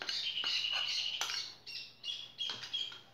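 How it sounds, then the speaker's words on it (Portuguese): Birds singing outdoors near a home kitchen where an orange cake is being made, bright chirps and short calls repeating in bursts over a faint low hum. "Meu vídeo tá sendo ao vivo com os pássaros cantando"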